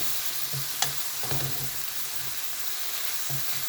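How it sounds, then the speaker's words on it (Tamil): Chopped tomatoes sautéing in a pan for chickpea chana masala with coconut, a steady broadband sizzle running throughout with a few sharp stirring clicks, close and fairly quiet, no talking. "கொஞ்ச நேரம் சாட் ஆகட்டும்."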